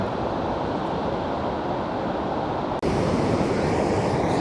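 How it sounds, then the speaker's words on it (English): Heavy water pours over a river weir in a steady, loud broadband rush that continues without a break, with a brief dropout near the end. "There's a heck of a lot of water flowing down there."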